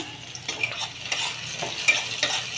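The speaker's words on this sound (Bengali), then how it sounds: "তেলের ওপরে আমি পেঁয়াজ দিয়ে দিলাম।" Onion fries in hot oil in a pan for an egg curry, a steady close sizzle broken by repeated scraping stirs at an uneven rhythm, with no talk.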